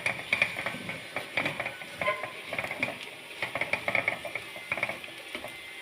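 Chili, turmeric and fenugreek powders are stirred in a hot pan, a spoon scraping and clicking against the metal in quick irregular strokes over a soft, steady sizzle, close and fairly loud, with no talking.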